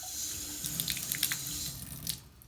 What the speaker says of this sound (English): If I turn it to the left, it can turn on the water.